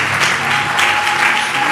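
A church congregation claps steadily through a Sunday worship service, the applause loud, close and continuous without pause.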